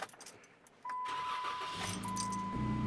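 A truck engine fitted with an aftermarket exhaust cranks and starts after a faint jangle and a chime. It catches with a deep, throaty rumble and settles into a loud idle.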